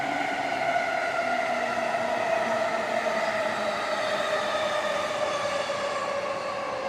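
A JR train on the Tokaido Main Line or Ueno Tokyo Line passes through a station near Tokyo with a steady, fairly loud electric whine whose pitch slowly falls, continuing unbroken with no voices.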